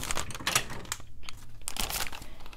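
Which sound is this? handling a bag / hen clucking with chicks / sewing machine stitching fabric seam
handling a bag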